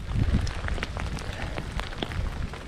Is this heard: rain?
yes